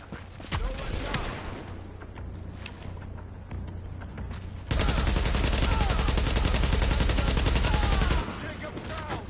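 Gunfire in The Division crackles in rapid bursts, at first scattered among voices and then settling into a dense, continuous volley of automatic fire that stops abruptly near the end.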